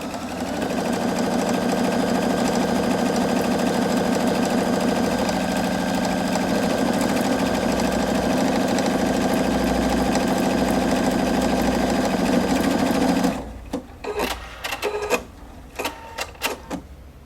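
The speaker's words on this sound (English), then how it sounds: "you can repeat it as many times as you like, and it'll do that same buttonhole stitch" A Husqvarna Viking Opal 690Q sewing machine stitches a buttonhole in a fast, even, mechanical rattle up close, then stops abruptly and leaves a few scattered clicks and taps.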